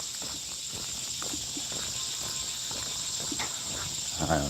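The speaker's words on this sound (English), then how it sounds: "you probably just heard my footsteps." Footsteps sound faintly and irregularly during an outdoor walk, set against a steady hiss of insects chirping.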